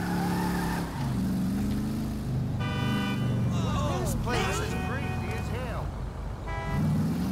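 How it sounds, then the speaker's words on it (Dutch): Car horn honking in GTA Online / GTA FiveM, several short toots over continuous engine and game noise, with someone talking throughout. "Ik kan ook toeteren."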